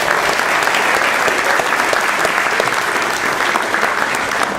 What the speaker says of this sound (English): Round of applause for Keith Pickles.